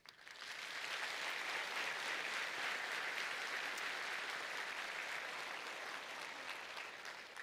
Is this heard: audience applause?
yes